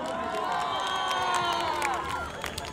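Festival crowd at a city day celebration in Kstovo cheering, shouting and applauding, a dense, loud and steady wash of voices and claps with a few whistles rising above it.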